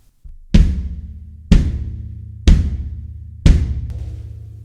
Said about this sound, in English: So you're essentially hitting the floor tom and the bass drum at the exact same time